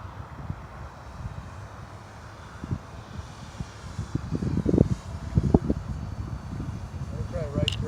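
Electric motor of a TIMBER RC model airplane held at half throttle in windy conditions, a steady distant whine under low gusty wind rumble, with a voice talking over it.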